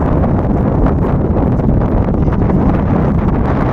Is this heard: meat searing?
no